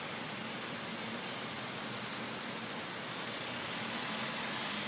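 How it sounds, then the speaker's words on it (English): Heavy rain pours steadily during a thunderstorm in New York City, a dense, unbroken hiss of downpour close by with no voices and no thunder breaking through. "This isn't hail, this is all rain. And it's how it's really coming down."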